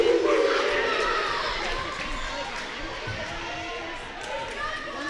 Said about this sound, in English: Got the Breckenridge fans cheering on Battle Lake here.